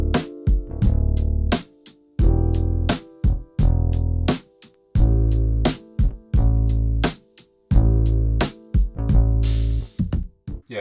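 Simple, groovy bass pattern in an R&B beat, looping steadily with punchy low notes in a repeating rhythm over crisp percussion, loud and up front with no voices.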